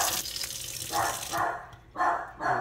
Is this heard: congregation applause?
no